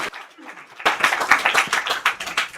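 An audience applauds at a Macon County Commissioners meeting. After a quiet moment with faint voices, clapping from many hands breaks out abruptly and continues as a dense, uneven patter.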